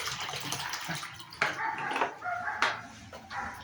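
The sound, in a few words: cold water poured into bowl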